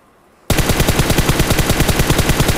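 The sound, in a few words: gunfire in video game PUBG Mobile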